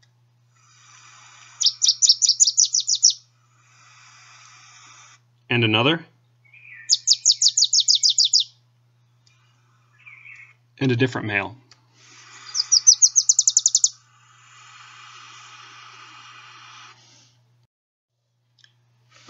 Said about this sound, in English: Here's a male Wilson's warbler.